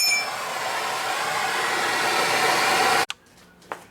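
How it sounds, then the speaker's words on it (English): A MAP gas torch roars with a steady broadband hiss while heating a seized wheel bearing on a second-generation Toyota Prius, loud and continuous for about three seconds before cutting off abruptly, followed by a brief faint knock. "I'm going to try heating this with a map torch for a while"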